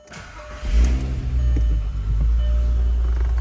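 A VW Golf 4 GTI VR6 is cranked and fires up, the starter giving way to a loud engine catch and brief rev before it settles into a steady, close idle.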